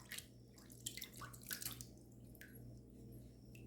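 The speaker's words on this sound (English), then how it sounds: "First pass, let's give it a rinse." Water splashes and drips in a few quick bursts while a razor is rinsed during a wet shave, faint and close with a low steady hum underneath.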